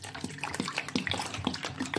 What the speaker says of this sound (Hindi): फिर इसका चिल्ड पानी डालेंगे